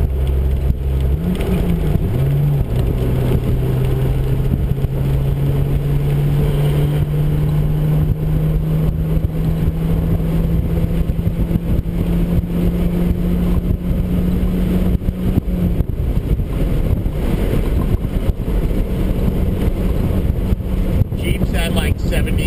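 A Jeep cruises at 50 mph on a highway with a steady engine drone and rolling road roar. Strong wind buffets the microphone, and the engine tone rises once early on.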